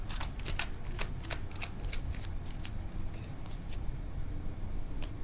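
Tarot cards being shuffled and drawn, a run of crisp riffling flicks and slaps in quick bursts, close and steady over a low background hum, with no talking.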